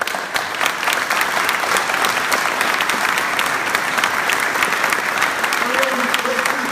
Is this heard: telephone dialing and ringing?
no